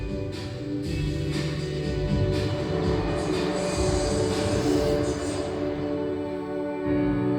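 Ride aboard a Royal Mail Rail train on London's underground Post Office Railway, with a continuous close, loud rumble and rattle of wheels and carriage in the tunnel, steady throughout.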